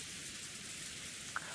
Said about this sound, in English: the sound of heavy rain plays